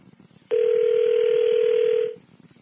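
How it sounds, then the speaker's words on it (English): A steady electronic telephone tone on an outgoing call sounds loud and alone for about a second and a half, starting abruptly and fading out, over faint background murmur. "See, you heard the phone ringing right there."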